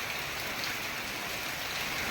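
Heavy monsoon rain pours down in a Gujarat village, a soft, even hiss of rain on surfaces that stays constant and fairly faint, with no talking.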